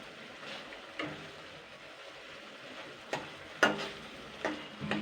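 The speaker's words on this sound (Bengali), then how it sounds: "তো এবার আমি ভেজে রাখা মাছগুলো আমি দিয়ে দিলাম। এটা দিয়ে আমি আবারও 2-3 মিনিট ফুটিয়ে নেব" Fried rui fish in mango kasundi curry bubbling gently in a pan, a faint low sizzle broken by several sharp clinks and stirring knocks.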